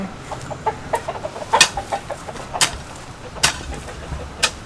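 Chickens on a farm clucking in quick, repeated short bursts, with several louder calls standing out, fairly close and without talk.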